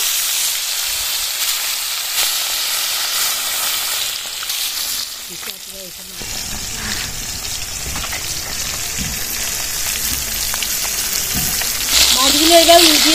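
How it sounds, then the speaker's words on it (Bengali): Pieces of rui fish frying in hot oil, a loud continuous hissing sizzle with occasional crackles, a voice briefly audible under it near the end. "গরম হয়ে গেছে, মাছগুলো ভেজে নেব।"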